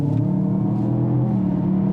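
A Genesis GV60 Performance electric SUV with its virtual gear shift mode on gives off a loud, steady synthetic engine drone, a close, combustion-like hum that holds at an even pitch with a slight rise near the end.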